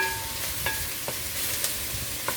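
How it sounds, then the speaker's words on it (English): Pumpkin and vegetables for Jamaican fish tea sautéing in a pot, giving a steady close sizzle with a few faint stirring knocks. "So I'm just letting that saute for a little bit, folks."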